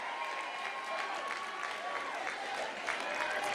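An audience at a 2022 National Action Network sermon applauds and cheers in a steady, dense wash of clapping and voices.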